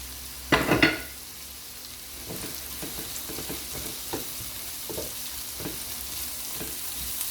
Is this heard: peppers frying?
yes